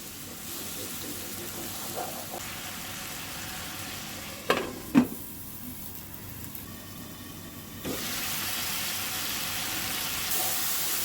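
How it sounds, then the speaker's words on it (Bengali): Spices stir-fried in oil for a mixed vegetable curry (labra), a continuous hiss of frying broken by a couple of sharp spoon knocks midway, the sizzle swelling louder near the end. "এখন আমি মশলাগুলোকে ভালো করে কষিয়ে দিব"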